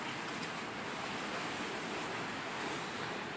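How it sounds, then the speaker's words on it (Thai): Strong wind and pounding sea waves on the Satun coast during Storm Pabuk, a steady broad roaring wash with gusty buffeting on the microphone, loud and continuous without speech. "ตอนนี้ขึ้นลมแรงแล้วนะครับ"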